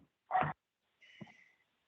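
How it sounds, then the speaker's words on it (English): A dog gives a single faint, distant bark, followed by a softer whining yelp. "That's my dog."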